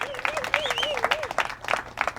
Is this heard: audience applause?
yes